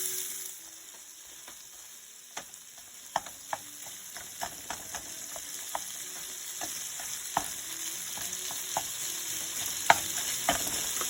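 Pizza bomb filling searing in a Ninja Foodi air fryer, a steady close sizzle and fry hiss with scattered sharp pops and crackles throughout, no voices.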